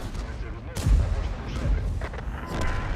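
A deep, heavy tank cannon boom in a video game rumbles out amid continuous game noise and background rumble, with softer distant blasts following.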